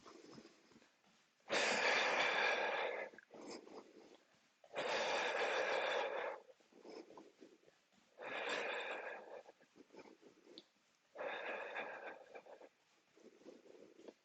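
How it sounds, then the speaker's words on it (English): Slow, deep breaths in and out during a gym exercise session, four long heavy breathing cycles separated by quieter pauses, close and alone. "Okay, and deep breath in."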